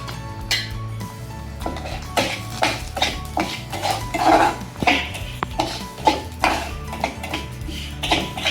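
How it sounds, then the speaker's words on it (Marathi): Ragi being dry-roasted in a pan for healthy laddus, heard as repeated metallic scrapes and clinks of a spatula against the pan, steady and close, with no talking. "आणि ही जी रागी घेतली होती ही सुद्धा आपल्याला भाजून घ्यायची याच्यामध्येच."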